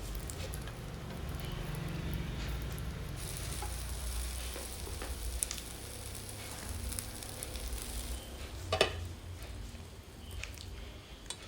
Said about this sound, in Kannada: ತುಪ್ಪವನ್ನು ಹಾಕಿ ಮುಚ್ಚಳ ಮುಚ್ಚಿ ಬೇಯಿಸ್ತೀನಿ. ನಂತರ ತಿರುಗಿಸಿ ಹಾಕಿ ಫ್ರೈ ಮಾಡ್ತೀನಿ.